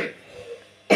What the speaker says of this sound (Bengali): এই রকমের কাশি যখন হয়